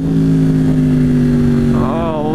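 Yamaha R1 sport motorcycle exhaust held at a steady loud drone with strong low harmonics, then blipped upward in a rising rev near the end, close to the microphone.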